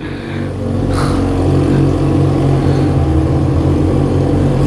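A Yamaha XJ6 or Honda Hornet motorcycle revs hard while turning inside an abandoned hospital, its engine rising quickly and then holding a loud, steady drone close by.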